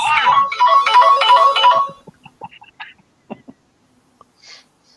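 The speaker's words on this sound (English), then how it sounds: "That's a mean phone call." Phone ringing with an incoming call, a loud bright melodic ringtone for about two seconds that cuts off, followed by scattered faint clicks and soft breathing.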